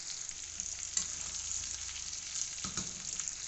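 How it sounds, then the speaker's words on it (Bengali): Mutton curry stirred in a pan over heat, a steady close sizzle with scraping stir strokes and a couple of heavier spoon knocks, no talking. "মাটনটা একটু নাড়া দিয়ে দেবো।"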